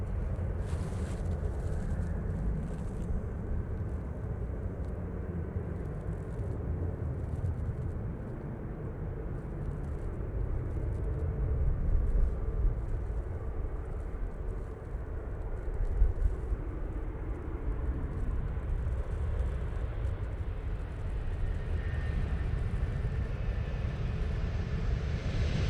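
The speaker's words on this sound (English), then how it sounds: "First arrival of the day. So from Alicante, got this Ryanair 737 MAX 8." Ryanair Boeing 737 MAX 8 arriving from Alicante at Manchester Airport, a distant, fairly faint jet rumble that swells gently mid-way and holds steady over a long stretch.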